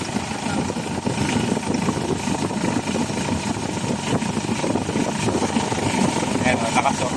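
Honda H100 motorcycle with a hard-starting, low-power engine running close by, a continuous rough mid-pitched engine drone with uneven revving as the throttle is worked, under occasional talk.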